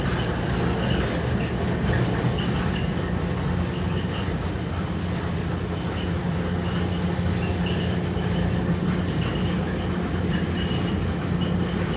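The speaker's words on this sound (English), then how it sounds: "That's the sound you're hearing is the dryer going." A great big commercial clothes dryer in a hotel laundry area rumbles continuously with a dense, broad mechanical roar and faint rattling, steady and fairly close throughout.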